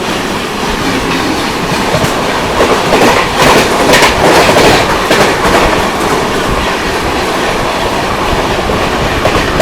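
An Indian express train, likely the Gatiman Express, rushes past at high speed with a loud, steady rumble and clattering wheels that swell in the middle of the pass.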